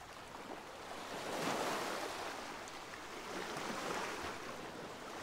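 Sea waves wash steadily against a shore beside a seaside glamping spot, a soft, continuous surf roar that swells and fades with some wind noise, faint and distant, with no one talking.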